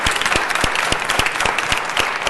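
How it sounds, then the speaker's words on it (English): Audience applause at a city council meeting honoring a pioneer woman of the year, a sustained, fairly loud burst of many hands clapping with distinct individual claps, close and unbroken, no speech. "Give her a round of applause to my left."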